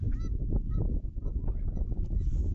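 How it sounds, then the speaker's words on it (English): Geese sit on ice at a park in winter and give repeated nasal honks, several birds calling over one another fairly close by. "geese are sitting here on ice 24/7"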